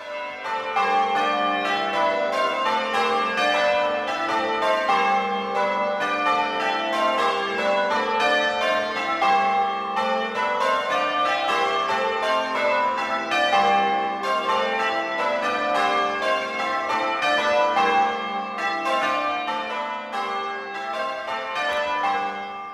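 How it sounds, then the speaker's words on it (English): Church bells of All Saints, Necton in Norfolk ring plain bob doubles, overlapping tones cascading steadily and clearly throughout, with no voices. "We now hear them ringing plain Bob doubles."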